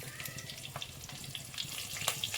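Cumin, sliced green chilies and kasuri methi sizzling in hot oil for curd chana masala, giving a continuous crackling hiss with scattered pops, close and fairly steady, with no voices.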